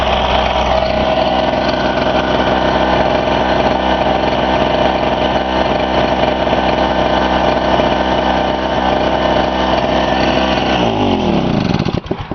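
A Pulsar PG1202S 1200W portable generator with a 72cc two-stroke gasoline engine runs steadily at close range, a loud, even buzzing drone that holds constant for the whole stretch and dips slightly right at the end.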